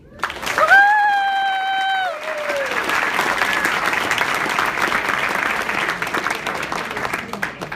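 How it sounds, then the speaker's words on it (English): A person whoops with a held, rising cheer, then an audience breaks into loud, sustained clapping that continues evenly to the end. "Another round of applause for John."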